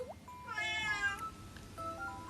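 A cat meows nearby in a drawn-out, wavering cry followed by a softer, shorter mew, with a quiet room murmur underneath.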